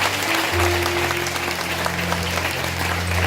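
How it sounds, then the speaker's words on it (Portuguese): A church congregation claps loudly and steadily throughout, a dense wash of applause over a sustained low instrumental drone. "Você pode aplaudir o Senhor pela sua palavra?"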